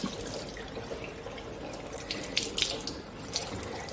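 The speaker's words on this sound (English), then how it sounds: "clean the bottle or nozzle using water and dish soap" Tap water runs steadily into a sink, rinsing a nasal rinse bottle, a continuous close splashing stream with a few brighter splashes and drips near the end.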